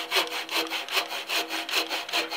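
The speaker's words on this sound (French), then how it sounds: "vais commencer à plonger, donc à couper en diagonale, en regardant bien mon trait de scie" A hand saw cuts diagonally through wood along a marked line, its rasping strokes repeating in an even back-and-forth rhythm, close and clear with no voices.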